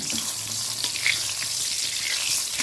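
Eggplant (brinjal) slices fry in a pan with a steady, fairly close sizzle and hiss that runs unbroken for the whole stretch.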